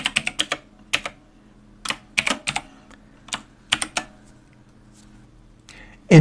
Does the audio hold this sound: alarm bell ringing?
no